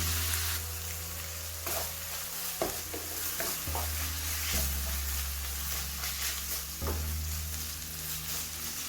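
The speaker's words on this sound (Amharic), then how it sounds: "ድቅቅ አድርጌ እሱን ጨምርና አንድ ላይ ልውስ አደርገዋለሁ" Meat, tomato and chopped spinach frying together in a pan, stirred with repeated scraping strokes over a steady low sizzle and a constant hum, close and without talking.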